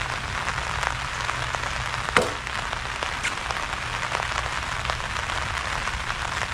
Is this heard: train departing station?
no